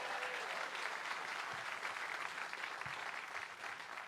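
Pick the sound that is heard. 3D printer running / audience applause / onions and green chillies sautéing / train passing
audience applause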